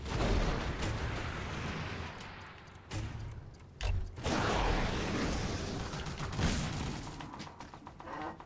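Artillery fire in Toy Soldiers: Cold War, a steady wash of booming blasts and dense gunfire at moderate level, with sharper bursts recurring every second or two.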